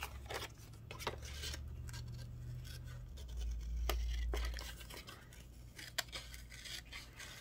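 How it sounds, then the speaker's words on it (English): Scissors cutting a house shape out of paper, a close series of crisp snips and rustles with a low hum underneath. "And then I'm going to cut out the next house."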